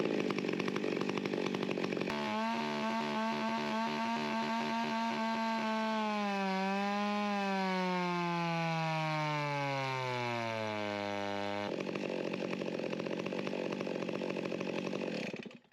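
A Stihl MS362 chainsaw with a modified carburetor roars steadily during a baseline cut, its pitch dropping as it bogs into the wood and then rising sharply again as it clears, loud and continuous.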